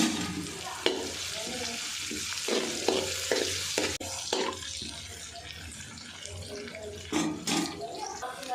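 Mustard seeds, curry leaves and turmeric sizzle steadily in oil in a pan while a spoon scrapes and stirs, with repeated clattering strokes and a faint voice in the background.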